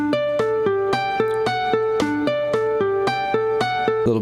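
Electric guitar playing a riff in D Mixolydian: a steady, looping run of bright picked notes repeating about every second, clear and alone, at a slightly slow tempo.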